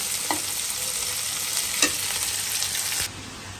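Spices being stirred in a frying pan: a continuous close sizzle broken by sharp scrapes and knocks of the spatula, ending abruptly near the end; no voices.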